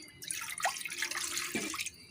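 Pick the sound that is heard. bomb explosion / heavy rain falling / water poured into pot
water poured into pot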